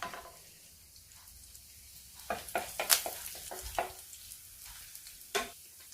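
Curry leaves dropped into hot oil already sizzling with cardamom, cloves and cinnamon, crackling in a steady low fizz with a few sharp pops and stirring clicks near the pan, no voices.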